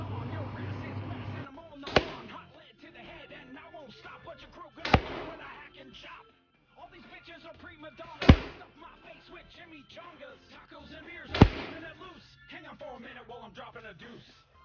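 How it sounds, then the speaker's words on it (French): A SIG Sauer MCX Virtus PCP air rifle firing pellets: four sharp, loud shots spaced about three seconds apart, with a person talking between them. "Sept tirs avec un plomb différent à chaque fois pour voir la précision"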